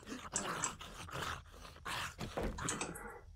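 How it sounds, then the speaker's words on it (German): Dogs in the survival game 7 Days to Die draw near, a low, rough growling and grunting with scraping bursts running for a few seconds, fairly quiet and with no talk. "Ankommen der Hunde."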